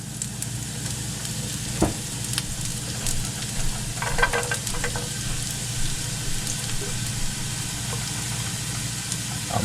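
Carrots fry in olive oil in a pan, giving a steady, moderate sizzle and crackle throughout, with a few soft clinks and stirring noises on top.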